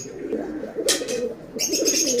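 An Indian red Ambasira pigeon gives low, throaty coos up close, interrupted by two brief rustling bursts like shuffling feathers.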